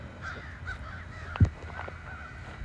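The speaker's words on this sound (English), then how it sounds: "you hear these crows going crazy" Crows cawing outdoors, several harsh calls repeating at an irregular rhythm against a steady background noise, with one sharp thump partway through.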